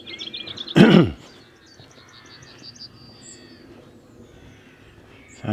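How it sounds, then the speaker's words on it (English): Crows in open countryside near Aisby: one loud, harsh caw bursts out close by, then fainter bird calls trail off over quiet outdoor ambience. "I can hear crows."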